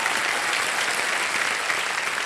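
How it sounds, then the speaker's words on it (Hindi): Studio audience on a televised Hindi quiz show applauds a contestant who has just won 40,000 rupees, a dense, steady wash of many hands clapping together with no voices over it. "तालियां बज जाए इनके लिए।"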